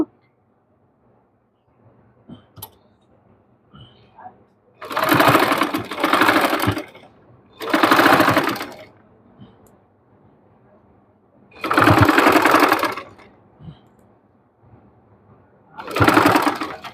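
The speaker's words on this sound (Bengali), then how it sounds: "দেখুন কত ইজিভাবে আমি সেলাই করছি এটা কোনো কঠিন কাজ না" A sewing machine stitches lace onto the neckline of a dress in four separate bursts of rapid mechanical whirring. Quiet pauses fall between the bursts, and faint handling clicks can be heard.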